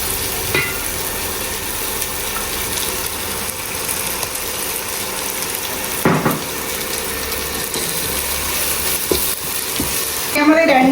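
Ginger, green chilies and garlic sauté in a pan, a continuous frying sizzle with scraping stirs and a few louder spoon knocks, ending in a brief burst of louder clatter.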